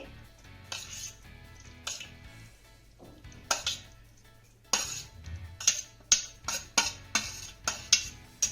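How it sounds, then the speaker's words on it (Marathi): Steamed drumstick pulp is spooned into a steel mixer jar, marked by repeated sharp metallic clinks and taps that grow louder and more regular toward the end. "आता याच भांड्यामध्ये हा गर घालतीये"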